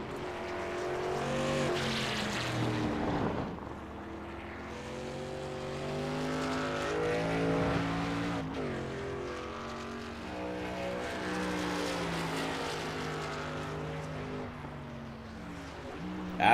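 Race trucks in the iRacing video game on the Indy road course, engines droning and shifting pitch as they accelerate and brake, a steady near-continuous roar of several vehicles with no talk.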